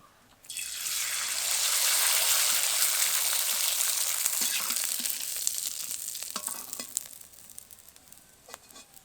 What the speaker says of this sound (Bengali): এই দেখুন কত সুন্দর একদম ভাজা হয়ে যাচ্ছে